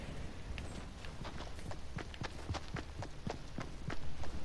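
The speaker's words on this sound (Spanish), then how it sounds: "Escucho pasos." Rapid footsteps in the Fortnite battle royale game, a steady stream of soft thuds and taps running over a busy, noisy game background with no talk.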